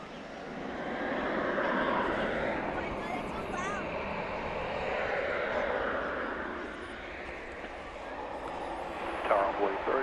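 An American Airlines Airbus A321 takes off from runway 20 left at Dallas Fort Worth airport at night with a broad, sustained jet engine roar at a distance, swelling and easing over ten seconds as radio voices talk underneath.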